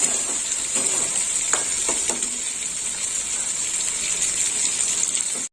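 Water poured into eggplant frying in hot oil sends up a loud, steady hiss and sizzle with a few crackles, then stops abruptly.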